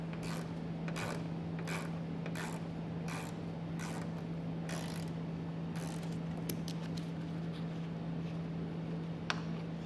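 An 8mm socket ratchet works a bolt loose on a 2021 Tesla Model Y, a quick series of faint, close clicking ratchet strokes over a steady low hum.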